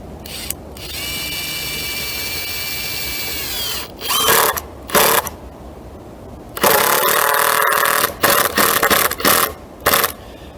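Kobalt 24-volt brushless cordless drill driving screws while framing a wooden firewood shed, with a steady whirring run followed by several short, loud bursts and pauses, heard close with no talking.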